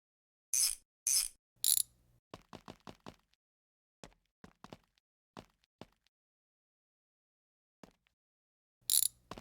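Ratchet wrench tightening bolts on a B200 ramp truck in a garage, with a few quick bursts of rapid clicking, then sparse single clicks and short pauses, close and crisp.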